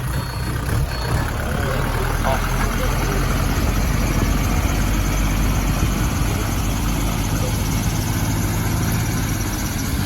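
A Kubota L5018 tractor's diesel engine runs steadily at a low idle, a constant close rumble with a faint high whine, filling the whole stretch without pause.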